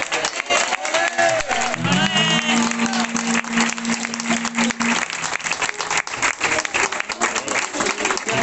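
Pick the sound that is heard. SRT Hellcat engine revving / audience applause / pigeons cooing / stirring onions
audience applause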